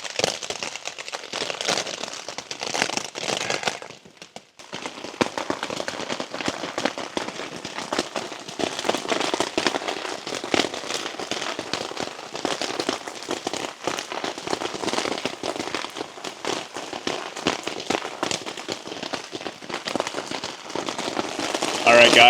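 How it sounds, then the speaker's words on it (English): Heavy rain drums on a camping tent in a storm, a dense, steady crackling patter close overhead that briefly drops near the start, with no speech. "the rain is coming in super heavy right now"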